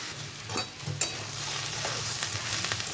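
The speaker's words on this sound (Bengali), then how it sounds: "পেঁয়াজটা ভাজা একটু হয়ে এসেছে" Steady sizzling of onions frying in a pan, with a couple of sharp scraping stirs early on and continuous crackle throughout.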